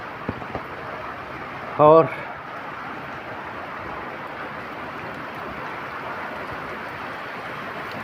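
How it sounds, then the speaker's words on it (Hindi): Heavy rain pours at night in Cormons, Italy, during flooding, a steady hiss that holds throughout while someone speaks briefly over it. "इस वक्त बारिश भी अपने ज़ोरों पे लगी हुई है"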